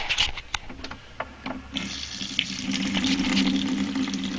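A galley faucet on a Sea Ray boat sputters with a few bursts of air while the cold water system is charged, then water runs steadily into a sink, close and growing fuller.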